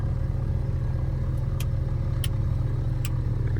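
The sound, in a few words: Tecnam P2006T aircraft engine running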